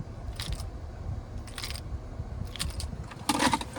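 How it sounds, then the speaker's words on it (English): A 2025 Toyota Tundra Limited key fob jangles on its ring in a few short bursts of light metallic clinking, close and soft, ending in a brighter rattle, over a low background hum. "Finally, here is the key fob."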